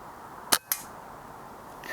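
Oneleaf RapidFire air rifle firing a pellet, a single sharp crack followed quickly by a second snap, heard alone against quiet indoor background.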